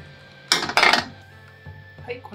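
Two quick bursts of metal clatter as a tamagoyaki pan is handled while making datemaki rolled omelette, followed by quieter kitchen knocks and faint background hum.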